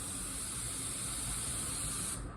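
Spray gun at about 17 PSI laying a second coat of clear coat on a large car body panel, producing a loud, continuous close hiss that stops abruptly near the end, with no speech.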